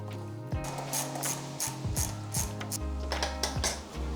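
A ratchet wrench clicks rapidly and loudly at close range as it loosens the front bolt of a fuel tank on a Yamaha MT-07 motorcycle, with several bursts of ratcheting separated by short pauses and no talking.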